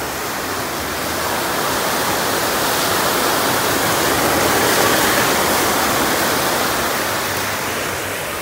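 Water gushes into a large trailer-mounted tank, a loud, steady hissing rush that swells slightly in the middle and continues unbroken for several seconds, with no voices.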